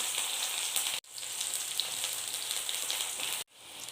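Sliced onions sizzle in hot oil seasoned with black cumin for a Bengali pabda fish curry, a steady close crackling hiss with two brief cuts in the sound, no voices.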